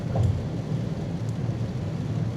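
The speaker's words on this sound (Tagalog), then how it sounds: "Lakas talaga ng ulan." Heavy rain pours steadily in a dense, even roar with a low rumble underneath, constant and close throughout with no voices.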